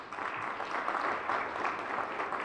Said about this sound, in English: A round of applause for our team.